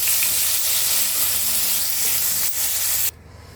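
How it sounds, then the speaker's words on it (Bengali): Brinjal pieces frying in hot oil for a Bengali spinach curry give a loud, steady sizzle and hiss close by that cuts off abruptly near the end. "বেগুনগুলো ভালো করে ভেজে নেবো।"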